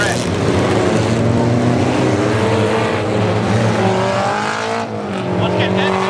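Pony stock race cars roar around Barona Speedway, a loud, continuous engine drone with shifting pitch as the pack runs past, while a track announcer talks over the noise.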